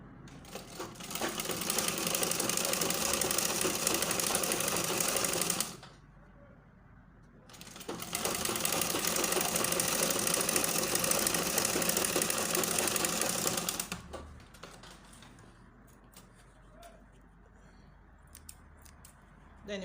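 A sewing machine runs in two long rapid bursts of stitching, close and loud, separated by a brief pause, then falls quiet with faint handling noises.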